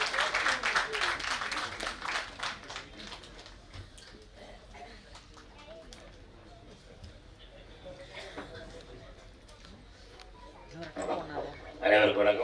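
An audience at a Tamil film audio and trailer launch claps to welcome actor Imman Annachi, a burst of applause that is loudest at the start and fades away, with voices following and a brief flare of noise near the end.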